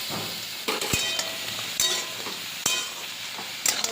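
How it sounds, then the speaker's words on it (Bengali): Bottle gourd being stirred in a pan, a steady low sizzle broken by several sharp spatula clinks against the metal at irregular intervals. "এবার একটু নাড়াচাড়া করে নিয়েছি।"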